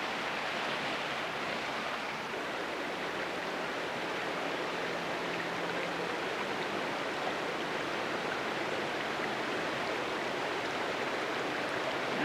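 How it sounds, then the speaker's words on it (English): Steady broadband rush of flowing stream water near Lake Tahoe, continuous and fairly close, with no voices over it. "Nice stream trickling in here."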